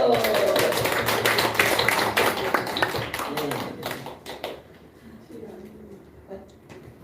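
A church congregation clapping together, a dense patter of many hands that is loud at first and thins out, with voices talking and cheering over it.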